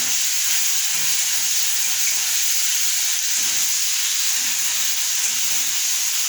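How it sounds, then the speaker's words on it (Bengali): Chopped tomatoes fry with black cumin in hot oil, giving a loud, unbroken hissing sizzle with steady stirring scrapes underneath, close and constant from start to finish. "এবার টমেটোগুলো একটু লাল লাল করে ভাজতে থাকবো।"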